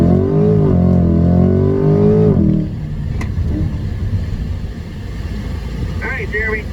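A C8 Corvette at a driving school launch, its engine held at high, steady revs with harmonic drone for over two seconds before the revs drop and a lower, rougher rumble continues, loud and close.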